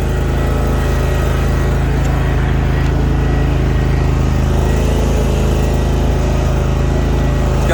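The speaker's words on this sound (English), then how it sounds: "It's got a Kawasaki 23 horsepower motor." Hustler Raptor 52-inch zero-turn riding lawn mower with a Kawasaki 23 hp engine running: a close, loud, steady engine drone at an even pitch throughout, with no talk.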